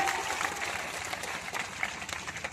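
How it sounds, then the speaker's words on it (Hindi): Applause from an audience at a political election rally in Bihar, a steady broadband clatter of many hands clapping for about two and a half seconds with no pause. "इनके नाम पर जोरदार ताली बजा के स्वागत कर दीजिए"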